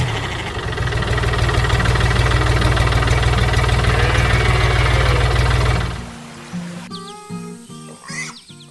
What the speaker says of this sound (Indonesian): Suara mesinnya menggelegar